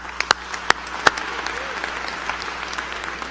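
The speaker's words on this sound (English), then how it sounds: "I'd like to applaud Mario for that" Audience clapping at a 2017 graduation ceremony, a steady wash of many hands with a few sharper close claps standing out near the start, holding at moderate level throughout.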